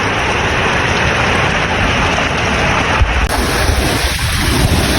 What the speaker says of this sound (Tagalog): Grabe talaga ang lakas ng hangin mga katuda